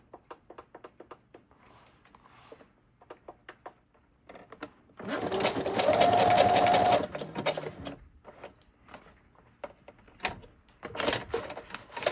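A sewing machine runs a zigzag stitch on lamp shade fabric in a steady whirring burst of about two seconds, with quieter ticks and clicks of handling before and after.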